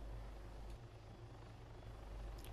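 A helicopter in the video game ArmA 3 gives a steady, low, muffled rotor drone with faint periodic beating, continuous and fairly quiet throughout, with no voices.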